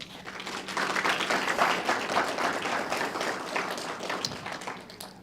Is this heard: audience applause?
yes